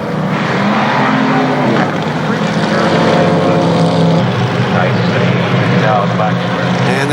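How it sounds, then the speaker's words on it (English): A field of KilKare Modified race cars approaches on the KilKare Speedway track during a Labor Day championship, a loud, dense engine drone that swells steadily while an announcer talks over it. "KilKare Modifieds coming at you."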